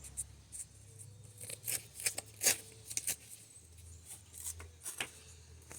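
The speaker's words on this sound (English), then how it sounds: "And then just kind of tear it across." Paper for a spray-paint stencil is torn by hand to shape mountain edges, giving quiet, close ripping crackles in short irregular bursts with brief pauses between, and no talking.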